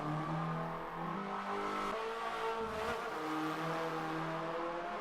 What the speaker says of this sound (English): The third and final car to go around the national configuration at Circuit de Catalunya was this, the first generation Hyundai Veloster N.